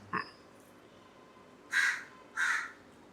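Crow cawing twice out of doors, two loud harsh calls about half a second apart after a brief short sound at the start, with no talk.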